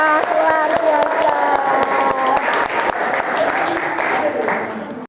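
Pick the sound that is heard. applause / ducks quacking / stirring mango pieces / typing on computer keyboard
applause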